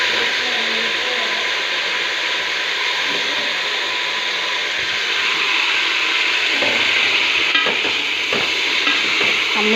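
Drumstick pieces sautéing in a pan for sambar, a continuous loud sizzle with scraping stirring strokes throughout, close and without talk.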